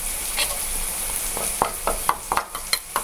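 Food frying in a pan is stirred, with a steady sizzle underneath and a run of sharp utensil scrapes and taps against the pan, close by and without speech.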